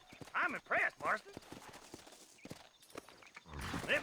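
A horse in the Red Dead Redemption western game, a few clopping hoof beats and whinnies at a close distance, mixed with people talking.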